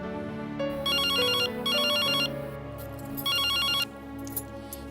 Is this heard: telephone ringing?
yes